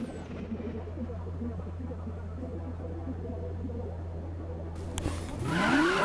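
A 1,001-horsepower Lamborghini Aventador with a Liberty Walk body kit and quad exhaust in Need for Speed 2015 holds a steady, low engine drone, then swells louder with a rising, squealing rush near the end.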